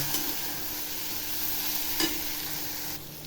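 Vegetables frying in a pan with red chili powder, turmeric and salt, stirred for a ragi khichdi; a steady broadband sizzle runs throughout, with a sharper scrape near the two-second mark and no talking.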